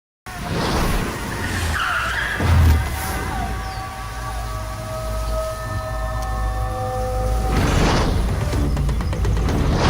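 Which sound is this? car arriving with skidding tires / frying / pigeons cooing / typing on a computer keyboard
car arriving with skidding tires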